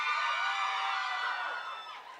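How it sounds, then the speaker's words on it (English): Women in an audience at a university World Intellectual Property Day celebration scream and cheer together in a high-pitched, sustained roar that tapers off after about two seconds. "then ladies scream."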